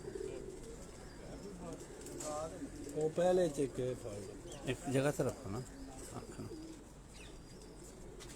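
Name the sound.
Tausi pigeons cooing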